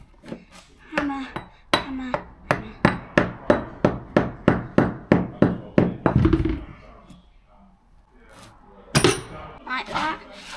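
Steady, rapid hammer blows ring out close by, about fifteen sharp metallic strikes in a row, followed by a pause and a few scattered knocks.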